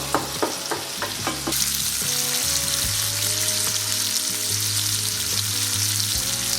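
Pieces of blackbuck heart sizzle steadily in a hot frying pan, a loud continuous crackle with a few sharp taps early on as the pieces are set down, and no talking.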